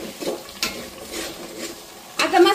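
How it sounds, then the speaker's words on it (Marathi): Masala stirred and fried in a pan for a katachi amti, with soft scraping and a steady sizzle that swells near the end into a louder sizzling burst. "आता मसाला चांगला परतलाय"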